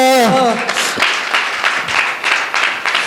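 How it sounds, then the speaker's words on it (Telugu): A church congregation claps loudly during a sermon, with rhythmic bursts of many hands after a brief voice at the start, filling the room close up. "చప్పట్లు కొట్టండి గట్టిగా."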